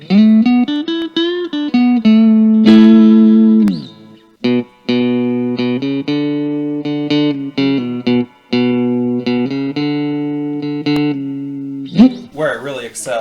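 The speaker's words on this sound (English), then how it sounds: "just a touch of reverb like this, those kind of twangy tones" Electric guitar with a retro-style P94 pickup, played through a touch of reverb with a twangy tone, picking country-style riffs: a run of bright, ringing notes and short choppy phrases with brief gaps, loud and close.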